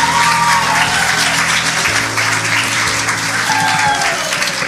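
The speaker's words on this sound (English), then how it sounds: "Let's have a round of applause for Charlotte." An audience at a live school assembly gives a dense, sustained round of applause for a performer, loud and steady throughout with a faint voice underneath.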